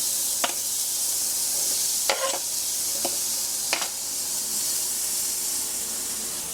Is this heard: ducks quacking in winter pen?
no